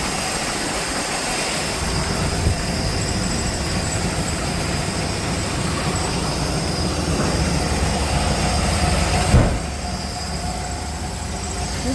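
The engine of a 1969 Chevelle barn find with a rebuilt carb, running on a driveway test drive, makes a continuous rumbling drone with steady low road noise for about twelve seconds, plus a brief thump near the end.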